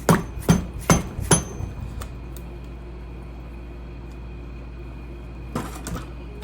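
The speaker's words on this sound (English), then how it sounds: "the race just kind of sits in the seal, and we can just kind of tap it out" A bearing race is tapped out of a Harley-Davidson Shovelhead transmission seal with four sharp, close metallic hammer taps in quick succession, then a steady hum with a couple of fainter taps near the end.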